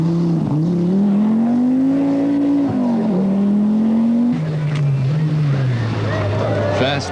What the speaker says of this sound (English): Lassie Lampy in a private quattro does some 4-wheel drive ploughing at Bramham